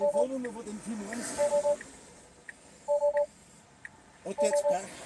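Telephone number being dialed on a phone, a few short bursts of DTMF keypad tones in quick groups, heard under people talking in German.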